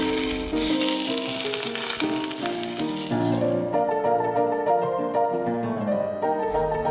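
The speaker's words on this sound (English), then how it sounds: "pour the boiling oil on top of the fish." Loud, continuous sizzling and crackling of boiling oil poured over steamed Sabah grouper, with music playing throughout and no speech.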